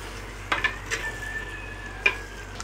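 Fish pieces are gently stirred with masala in a pan, giving a few soft scrapes and light metallic clinks against a quiet low kitchen hum, with a thin faint ringing tone.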